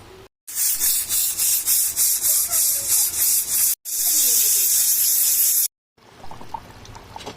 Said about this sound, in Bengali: এবার আমি প্রেশারে ঢাকাটা আটকে দেবো এবার আমি কয়েকটা সিটি মেনে নেবো